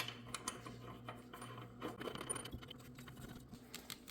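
Small metal parts, a washer and nut, clink and scrape faintly as they are fitted onto a pulley on a Toro mower deck, with scattered light taps and rattles over a low background hum.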